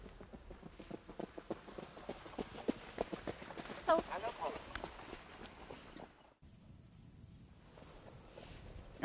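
Horses trot past at a trotting stable, their hooves beating a quick, rhythmic clip-clop on the ground nearby, with some wind and background noise.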